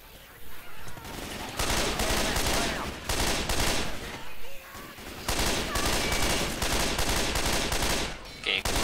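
Rapid bursts of gunfire from the Left 4 Dead 2 Dark Carnival campaign, loud sustained fusillades broken by short pauses over about nine seconds.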